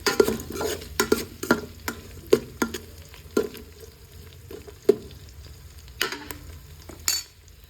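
Garlic and dried red chilies frying in oil for tamarind pulihora, a soft steady sizzle broken by repeated sharp scrapes and clinks of a spoon stirring the pan.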